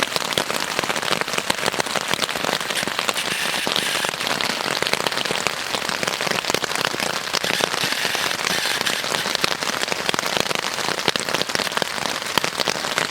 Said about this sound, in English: And this little old tarp seems to be holding up fine.